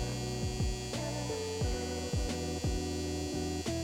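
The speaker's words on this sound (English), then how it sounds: "it's my dryer. Hold on." A home clothes dryer runs loudly nearby, producing a continuous droning hum whose pitch dips in a regular rhythm roughly every two-thirds of a second, with no talking.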